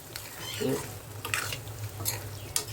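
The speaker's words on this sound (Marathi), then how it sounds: "हे मी ह्याच्यात मशरूम टाकले आता हे थोडे शिजून देते" Mushrooms cooking in a pan of roasted masala for mushroom paneer, with a soft sizzle underneath and a few spoon scrapes and clinks against the pan at irregular intervals, close by.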